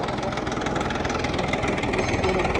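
A tractor engine idles with a steady, dense mechanical rumble and light knocking, close and continuous, with no talk over it.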